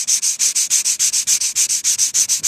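Sandpaper rubbed briskly back and forth on wood of a splay-legged table to build up sawdust in a crack, about fifteen quick rhythmic scratchy strokes, close and loud.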